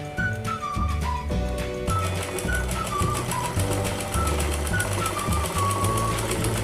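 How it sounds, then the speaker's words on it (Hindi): An electric sewing machine runs steadily while stitching a folded fabric strip into piping for a sleeve, giving a continuous rhythmic whir with short pauses and a faint melodic tone in the background. "इसी तरीके से इस पट्टी को भी हमें अंदर की साइड मोड़ते हुए स्टिच कर लेना है"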